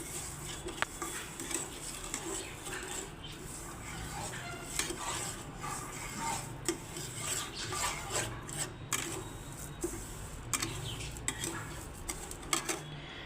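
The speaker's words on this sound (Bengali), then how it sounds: "তো চিনিটাকে আমি নেড়ে নেড়ে একদম আঠার মতো বানিয়ে ফেলবো।" Sugar stirred with watermelon rind in a pan makes a steady, close scraping and rasping of a spoon against metal, continuous over the whole stretch with small clinks and no talk.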